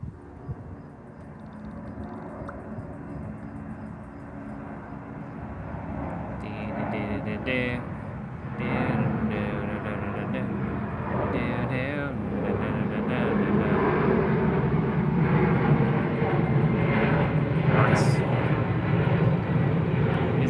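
An airplane roars overhead, its broad engine rumble swelling and growing louder over about twenty seconds while people talk.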